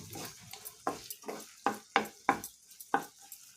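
Ridge gourd peel and tomato pieces fry in an open pan, with a soft low sizzle broken by about eight sharp scraping stirs in an uneven rhythm, close by and fairly quiet.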